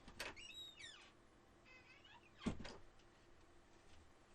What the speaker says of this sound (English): Of course, my cat's at the door again.